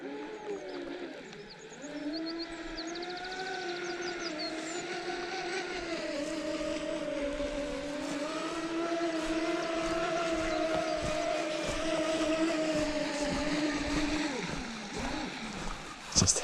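A custom carbon RC boat, the Carbon King, runs flat out on a 6s battery with a steady high electric whine that rises and falls in pitch over a constant rushing, heard continuously from a moderate distance outdoors.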